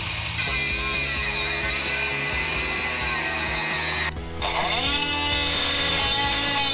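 A power tool cuts through metal to reach a broken nut, giving a loud, continuous, close grinding screech with a rumbling undertone, briefly dipping about two-thirds of the way through before carrying on.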